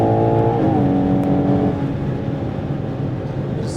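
A 2025 Ferrari Purosangue accelerates hard on the Autobahn, its engine note rising loudly from inside the cabin before easing into a steady roar of wind and road noise.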